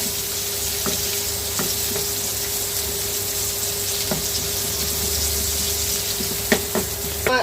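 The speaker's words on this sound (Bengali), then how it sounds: "পেঁয়াজটা একটু ভাজা ভাজা করবো" Sliced onions with a few green chillies sizzle in hot oil in a pan, a loud continuous frying hiss with occasional stirring clicks and scrapes, no voices.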